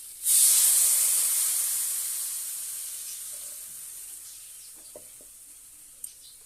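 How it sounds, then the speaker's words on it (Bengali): Water poured into a pan of frying vegetables for a potato, pointed gourd and lentil-dumpling katla fish curry sets off a sudden loud sizzle and hiss that gradually fades, with a few faint clinks near the end. "সবজিটা ভাজা হয়ে গেছে, এর মধ্যে দিয়ে দেবো জল।"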